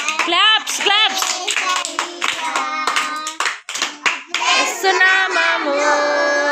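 Sunday school children clap their hands together in steady rhythm while singing a lively hymn, with the claps close and loud under the voices.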